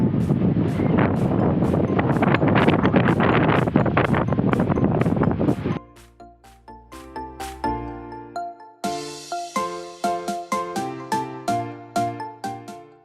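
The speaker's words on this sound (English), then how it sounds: "It is raining and windy out" Heavy wind roars and buffets the microphone on a rainy night in Montana for several seconds, then cuts off, giving way to tinkling, chime-like notes.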